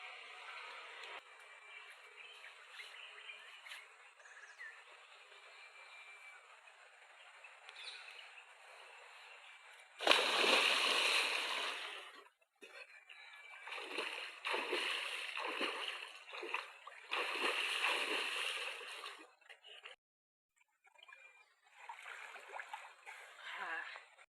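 People bathing in the Maduru Oya river near a Sri Lankan village send up loud bursts of splashing water in clusters through the second half, after a quieter stretch of flowing water and birdsong, with voices talking now and then.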